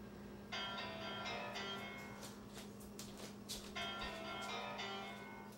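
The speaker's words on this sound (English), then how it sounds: "Sorry about that, that was my phone going off." A mobile phone rings in a kitchen during cooking, its melodic bell-like ringtone playing in two bursts, faint and somewhat distant against a low steady hum.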